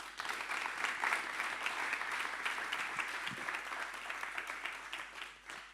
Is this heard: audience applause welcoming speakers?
yes